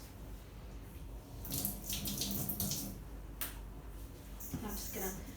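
Tap water runs into a kitchen sink to wet a spatula while shaping sourdough on a floured counter, a steady hiss with brief stronger gushes, partly under a voice speaking.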